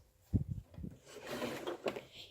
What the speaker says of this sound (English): Here is my junk drawer, basically.